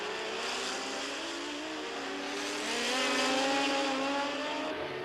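Can-Am race cars at the 1984 Grand Prix de Trois-Rivières street circuit, engines wailing and rising in pitch as a car slides through a turn on the limit, loud and sustained, swelling as it passes close by.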